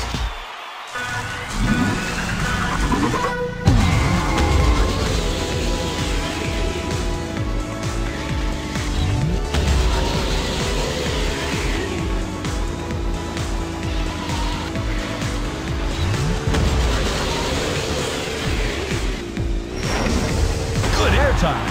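Toy cars race in the Hot Wheels Racecraft video game with a continuous whining engine buzz, tire squeals and occasional crunching impacts, while a voice talks over much of the action.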